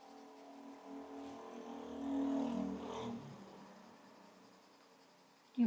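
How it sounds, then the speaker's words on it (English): Motorbike passing by outdoors, heard indoors as a faint, distant engine hum that swells to a peak and then fades away, with no talking. "You probably just hear that motorbike passing then."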